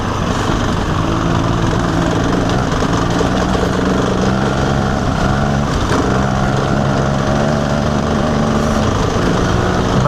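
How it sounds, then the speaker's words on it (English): A two-stroke engine drones loud and steady with a buzzy, high-revving tone for the whole stretch, close by on a road ride, with rushing wind noise mixed in. "Now I got the sound and the smell of a two-stroke."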